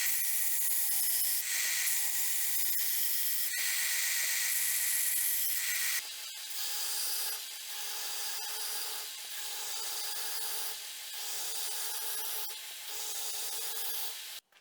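Continuous abrasive rubbing and grinding on 5160 steel while cutting out knife handle scales, close and steady, then a brief pause followed by a rhythmic series of strokes.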